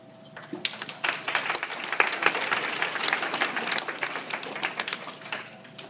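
Steady applause fills the room from a school audience before a fifth-grade class performs a play about the American Revolution, loud, dense clapping that swells and then gradually thins, with no talking over it.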